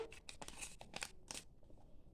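A perforated paper sticker packet is torn open in a few quick, crisp ripping and crinkling bursts, close and fairly quiet, followed by a short soft rustle.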